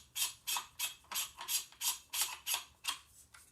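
A KAK pistol buffer tube screwed by hand into the back of an AR22 chassis receiver on a Ruger Charger, about a dozen evenly spaced close ratcheting clicks, faint and alone.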